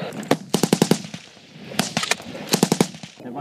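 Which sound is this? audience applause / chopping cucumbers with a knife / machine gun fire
machine gun fire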